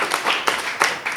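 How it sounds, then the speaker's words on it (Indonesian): A short burst of clapping from an audience at a leadership talk, several sharp uneven claps over about a second, fairly close and moderately loud. "Tepuk tangan untuk kemarin."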